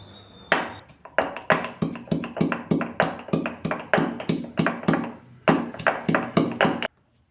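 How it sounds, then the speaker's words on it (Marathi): Peeled garlic cloves are crushed with steady, rhythmic pounding: about twenty sharp, close strikes in quick succession, then a stop, with no talk. "लसूण आता ठेचून घ्यायचं आहे"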